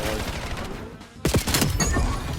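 VS Recon sniper rifle fired in the video game Black Ops 7, heard as a sharp loud crack with echoing tail after a brief lull, amid continuous game noise.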